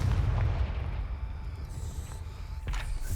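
A Confringo fire spell detonates in Hogwarts Legacy, a deep rumbling boom that rolls on and fades, followed by a couple of lighter crackling hits near the end.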